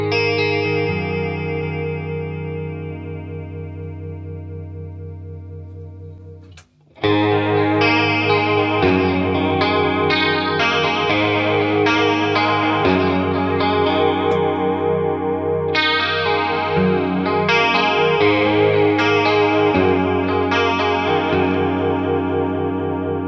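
Electric guitar played through a chorus pedal set to vibrato mode, with wavering, pitch-warbling chords: a sustained chord fades out, then a strummed attack leads into continuous shimmering, modulated playing at steady volume.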